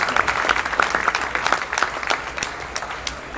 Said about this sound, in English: Please give a round of applause to Lynn Alden and Rafa Zagori.